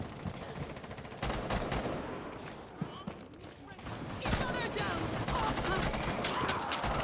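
Gunfire in Rainbow Six Siege, rapid automatic bursts and sharp single shots that recur throughout over busy game noise, fairly loud and close.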